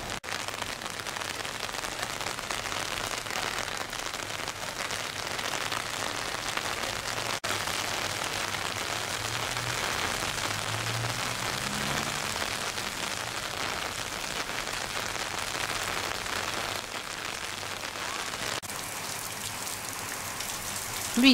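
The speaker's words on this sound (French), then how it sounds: "Pluie tropicale sur la place du marché aux épices et les rues piétonnes environnantes." Steady tropical rain pours over a spice market square and the surrounding pedestrian streets in Guadeloupe, an even, dense hiss of drops on hard surfaces holding the same level throughout with no break.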